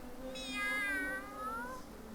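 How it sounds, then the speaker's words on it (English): A cat meows during a stream of a duck-collecting simulator game: one long, drawn-out meow with a wavering pitch, heard clearly over a steady low hum. "Listen to the cat."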